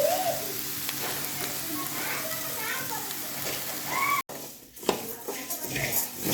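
An egg fry curry with Manila tamarind sizzles steadily on a low flame in a pan, close and constant, under a voice and children's chatter, with a brief break midway.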